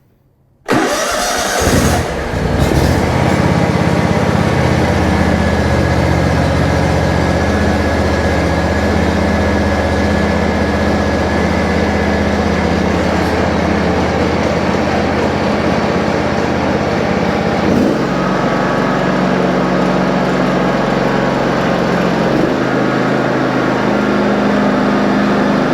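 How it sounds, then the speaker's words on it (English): A John Deere riding mower with a newly replaced solenoid cranks briefly, then its engine catches and runs loud and steady close by, with a slight dip in pitch partway through and no talk. "And I'll go ahead and start this mower up."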